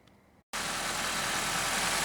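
A Honda Civic GX running on natural gas idles steadily and close by after a brief silence, a continuous even engine hum with no voices.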